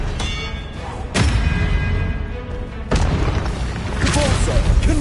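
Spell blasts from Hogwarts Legacy, with heavy booming explosions landing in a few loud thumping bursts over rumbling combat noise, and faint voices in the background.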